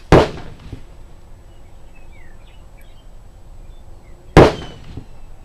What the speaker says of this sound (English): we're going to put it over the chronograph, fire 5 rounds, look at the velocities that we're getting